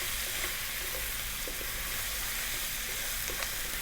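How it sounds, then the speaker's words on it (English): Chili powder and turmeric being stirred into frying cabbage in a pan produce a constant close sizzle and crackle of hot oil, with a few soft scraping stir strokes and no speech. "We're now going to drop in the 2 teaspoons of chili powder and the turmeric. Give that a nice little mix in."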